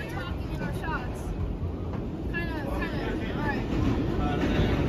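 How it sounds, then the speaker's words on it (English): A New York subway train running fast near Brooklyn Bridge City Hall, a loud rumbling roar with metallic wheel squeals rising and falling, heard from on board or close by while people talk over it. "This train is hauling."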